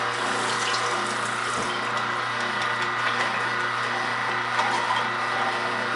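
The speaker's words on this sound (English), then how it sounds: "I'm just going to give the celery here a rinse." Celery stalks rinsed under a running kitchen tap, a steady close hiss of flowing water splashing without pause for several seconds, with no talking.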